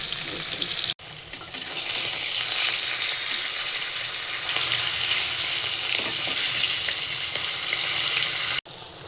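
Hilsa fish frying in hot oil gives a loud, steady, close sizzle that runs without a break for the whole stretch, with faint stirring scrapes now and then and no voices.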